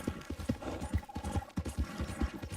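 Horse hooves clip-clop in a steady, close trot in the Red Dead Redemption 2 video game, with a brief whinny-like cry partway through.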